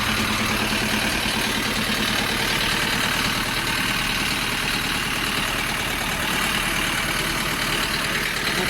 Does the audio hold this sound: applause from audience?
no